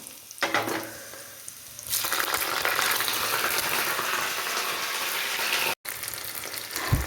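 Okra with onion and curry leaves frying in hot oil in a pan for sambar. A quiet start gives way to a loud, steady, close sizzle, broken by one brief dropout.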